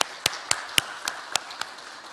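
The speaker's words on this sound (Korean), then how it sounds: "다시 한번 감사의 박수 주시면 고맙겠습니다." Claps of thanks from an audience at a Korean unification rally: a thin, regular patter of sharp, distinct claps about a quarter second apart, fading slightly toward the end, with no talking over them.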